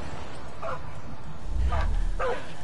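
Dog in the Far Cry 5 game gives three short yipping barks, with a low rumbling thud under the later ones, fairly close, over quiet game ambience.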